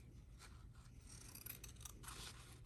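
Scissors trimming a fabric seam allowance, a series of soft, close snips and slicing rasps in an uneven rhythm, quiet and with no talking.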